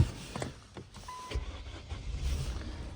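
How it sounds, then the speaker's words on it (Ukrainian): A 2012 Ford Mondeo 1.6 with manual transmission starting up: a short cranking burst, then the engine catching and settling into a steady idle close by. "Так, Зараз ще заведу автомобіль."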